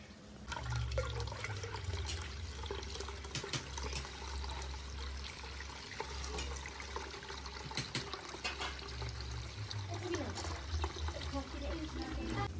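Water is poured and trickles into grated coconut to draw out the milk for homemade coconut oil, a soft continuous splashing and dribbling close by, with faint background noise.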